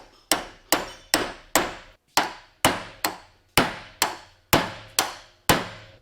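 Eleven sharp metallic hammer blows on a punch, driving a bearing race out of a 14-bolt truck rear axle, at a steady, deliberate pace, each ringing briefly before the next strike, close and loud with no talking.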